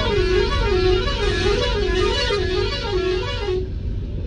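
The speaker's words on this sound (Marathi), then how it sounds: "बघा हॉर्न बिन टाकले हॉर्न वाजव" A vehicle's Bajrangbali musical horn blares a repeating warbling tune, several rising-and-falling notes in a steady cycle, loud and close, cutting off near the end over engine and road noise.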